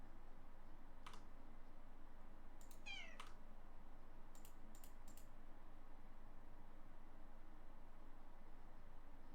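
A cat meows a few times, short clear calls against a steady hiss of background noise, with a couple of brief clicks like keys scattered between them.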